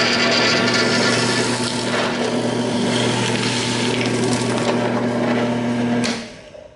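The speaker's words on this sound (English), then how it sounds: "Let's go over to the drill press and poke it out." A drill press bores steadily through EVA foam with a Forstner bit, a loud continuous whirring grind with a motor hum, stopping abruptly near the end.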